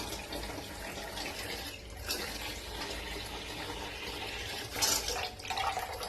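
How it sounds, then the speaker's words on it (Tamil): Plain water pours from a tap or container into face pack powder, a steady close splashing trickle with a brief louder gush near the end; no one speaks. "இங்க பாருங்க, வெறும் தண்ணி தான் விடுறேன்."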